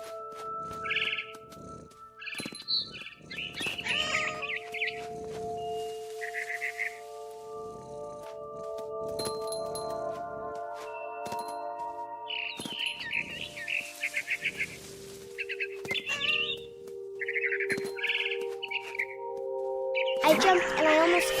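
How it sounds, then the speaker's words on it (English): Repeated barn swallow chirps and tweets in short bursts over sustained electronic tones, with a few thumps in between, in the video game What Remains of Edith Finch. "I heard chirping outside my window. It was a barn swallow going back to her nest."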